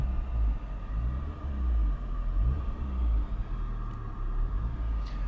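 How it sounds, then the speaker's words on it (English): A 1991 VW Golf 2 GL with a 1.8 l 90 hp petrol engine runs close by, giving a deep, steady rumble with slight rises and dips in intensity. "Now I'm going to rev the car a little bit."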